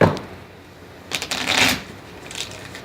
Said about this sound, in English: so now we'll do the regular shuffle